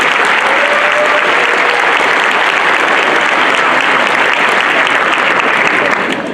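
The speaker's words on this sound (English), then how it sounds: "I want to give a round of applause for them again." Sustained, loud applause from a sizable audience at a Model UN opening ceremony, steady clapping throughout before easing slightly at the very end.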